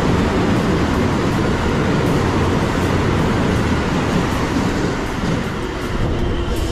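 A JR 223 series electric train running, heard from on board as a steady, loud rumble and roar of wheels on rails that persists throughout with no talk.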